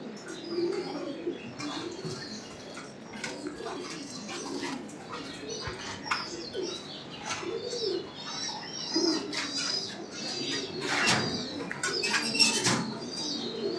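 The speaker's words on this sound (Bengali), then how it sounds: "এই যে দেখেন নর কবুতর" Male fancy pigeons of a pure old bloodline coo in repeated low, throaty rolls, with occasional wing flaps and small chirps scattered through a long, fairly close stretch.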